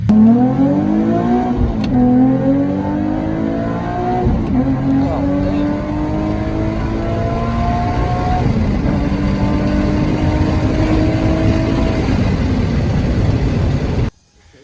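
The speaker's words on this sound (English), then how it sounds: "this is the Y-Back ISR single exit exhaust paired up with the stock Y-pipe and the Fast Intentions resonated test pipes" A Nissan 370Z with an ISR Y-Back single-exit exhaust, stock Y-pipe and resonated test pipes revs hard up close, its engine note repeatedly rising and settling in loud throaty pulls before cutting off abruptly.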